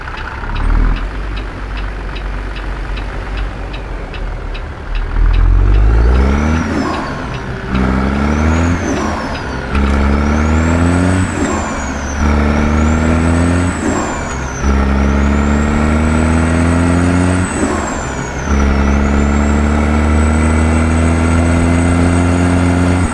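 Peterbilt 379 truck with a Caterpillar C16 engine driving in American Truck Simulator, revving up through repeated gear shifts with rising engine tones and air brake hisses, loud and close with no talk.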